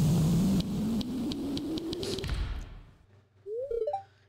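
A bus engine in Stardew Valley gives a low rising drone under rustling noise, then fades before a short whine near the end, with no talk.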